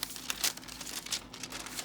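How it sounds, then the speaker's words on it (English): Paraffin paper just torn off a tray of Christmas cookies is crinkled and crumpled by hand, a close, quiet run of papery crackles and rustles with a few sharper crunches. "the paraffin paper that we just tore off of there"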